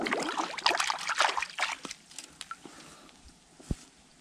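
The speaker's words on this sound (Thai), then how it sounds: "ตัวนึงเพิ่นหลุดซ้ําล้างขี้ตมก่อนครับ" Water trickles and splashes as mud is washed off freshly caught fish beside a rice field, a busy burst of splashing that thins to sparse drips.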